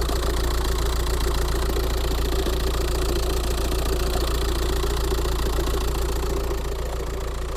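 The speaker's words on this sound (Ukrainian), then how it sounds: "Вже чути, як гупає двигун знизу, і він весь в маслі." A Volkswagen T5 van's oil-covered diesel engine idles close by with a steady, rapid knocking clatter from below and a low rumble, continuous and unchanging.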